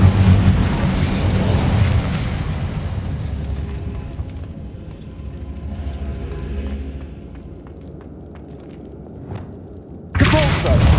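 In Hogwarts Legacy, an Incendio fire spell bursts with a loud, rumbling whoosh that fades over several seconds, followed by a sharp new blast near the end.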